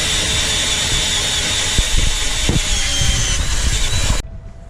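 Continuous loud mechanical whir of a power drill drilling holes to mount water tanks on a food truck, with rattling and intermittent knocks, cutting off abruptly near the end to quiet.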